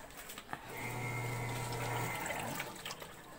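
A washing machine running through its wash cycle: a steady watery churn and rush, with a low motor hum that swells for about a second and a half in the middle, no voices.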